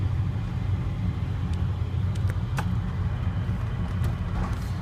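Volvo 740 wagon with a 100-horsepower naturally aspirated engine cruising, a steady low rumble of engine and road noise filling the cabin throughout, with a few faint ticks and clicks above it and no talking.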